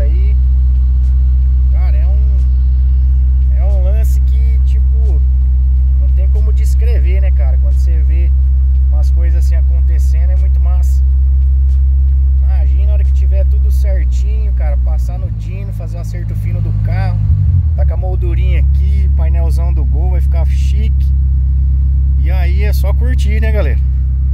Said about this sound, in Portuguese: Deu tudo certo aqui, carro funcionando